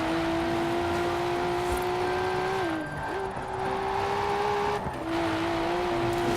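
A Nissan Skyline GT-R R32 with a stiffened, tuned suspension drives in Forza Horizon 4, its engine holding a steady loud drone that dips briefly as the driver lifts off twice, then resumes.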